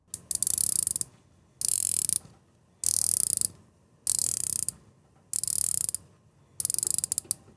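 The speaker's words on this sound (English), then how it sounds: "get the mic nice and close so we can hear how that bezel action sounds" The rotating sapphire bezel of a Heron Marinor dive watch, turned close to the mic, gives six separate bursts of rapid, crisp ratcheting clicks, each lasting about a second with short silences between.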